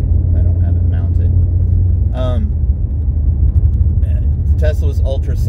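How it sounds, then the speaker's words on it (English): A gasoline sports car with active exhaust valves, left in standard mode, produces a steady, loud low exhaust rumble while driving, heard from inside the cabin with someone talking over it. "oops, there's active valves on the exhaust. And yeah, this is just in standard."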